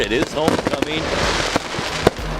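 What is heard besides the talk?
fireworks going off at a homecoming football game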